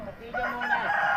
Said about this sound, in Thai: ต้องมีเสียงไก่ดังรบกวนนิดหน่อย